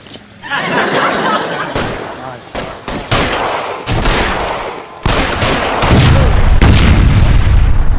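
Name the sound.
gunshots in the video game L.A. Noire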